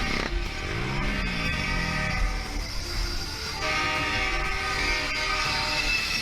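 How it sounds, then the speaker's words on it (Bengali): A train passing nearby with a loud, sustained horn blast over heavy rumbling and rail noise, continuous and close throughout. "ট্রেন আসতেছে"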